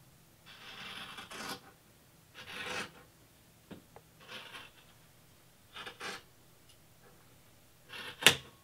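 Rotary cutter cut along a quilting ruler while making a flying geese block, several soft rasping strokes separated by pauses, with small clicks and one sharp tap near the end, no talk.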